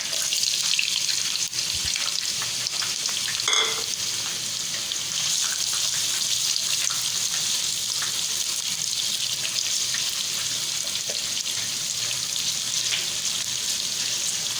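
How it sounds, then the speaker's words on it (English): Onions fry in oil in a pot, giving a steady, bright sizzle that hisses continuously and evenly at close range with no talking over it. "So now we have to fry the onions."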